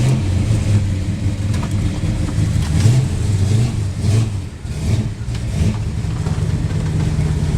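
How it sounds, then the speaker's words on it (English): A big-block MOPAR Roadrunner with a four-speed transmission rumbles loudly and steadily, its deep engine note rising and falling through repeated revs while driving, close up with no speech. "you guys get to ride the big block 4-speed Roadrunner"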